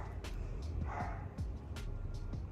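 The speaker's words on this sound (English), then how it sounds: "Why are you barking?" A dog gives a few short, yipping barks at moderate distance, spaced irregularly over a steady low background hum.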